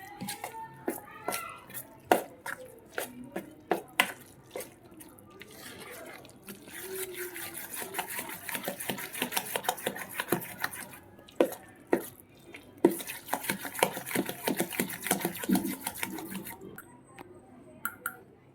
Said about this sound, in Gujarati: મિક્સ કરી દઈશું સારી રીતે.